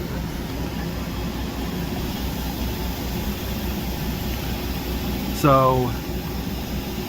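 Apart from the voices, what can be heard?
loud inflatable exhaust fan running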